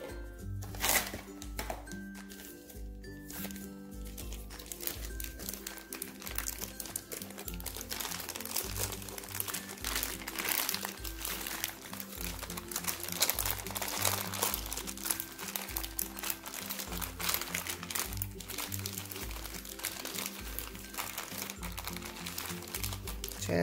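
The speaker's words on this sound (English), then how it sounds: "So I'm also going to store these in a Ziploc bag just to ensure that this does" Homemade disinfecting wipes pushed into a plastic Ziploc bag, with continuous close crinkling and rustling of plastic and a few handling knocks.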